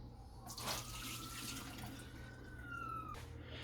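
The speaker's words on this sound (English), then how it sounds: "I'm just going to be taking the water out" Water pours and splashes steadily from a container of soaked potatoes into a sink for several seconds, close and fairly quiet, with no talking.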